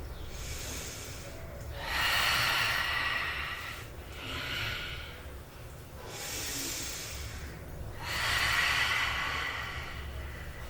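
Slow, forceful exhaled breaths during an abdominal exercise, each a long breathy hiss lasting one to two seconds. Roughly four or five breaths come in a steady rhythm, close and fairly loud, with no talking.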